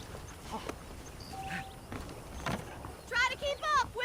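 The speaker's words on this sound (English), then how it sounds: "The horses are saddled up over here." In the video game Red Dead Redemption, saddled horses give soft, scattered hoof clops on a ranch. A voice speaks briefly near the end.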